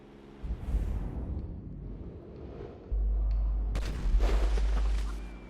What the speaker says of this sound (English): Now I'm taking a shot.